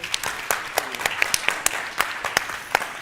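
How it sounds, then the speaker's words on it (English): Conference audience applause at a symposium's closing presentation: a dense round of clapping with sharp individual hand claps standing out, fairly close and steady throughout, with no speech over it. "give them a round of"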